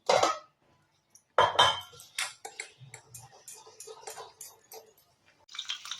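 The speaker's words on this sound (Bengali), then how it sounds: "আমি এটা অল্প অল্প জল দিয়ে ভালো করে একটু ফেটে নেবো।" Batter made with water for frying teasel gourd fritters is beaten in a bowl, producing irregular close clinks and scraping taps of a utensil against the bowl, with short pauses between bursts and a quieter stretch in the middle.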